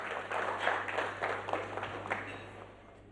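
An audience at a business breakfast meeting claps in a steady crowd patter that swells early and fades toward the end, heard over a low electrical hum in the hall.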